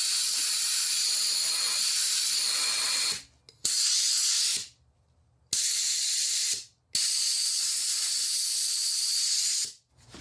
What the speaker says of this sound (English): I'll take some high pressure air and just sort of blow in this area here.